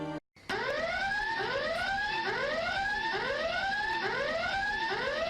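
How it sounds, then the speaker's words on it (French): Secrets alarm in The Sims 3 going off, a loud repeating rising siren sweep cycling about every second, continuous after a brief gap at the start, with no talk. "Pourquoi as-tu déclenché l'alarme des secrets?"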